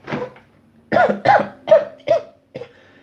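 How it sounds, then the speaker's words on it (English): A run of five or six deep, forceful coughs, close by, in quick succession with a short pause before a final softer one. "That was a very manly cough."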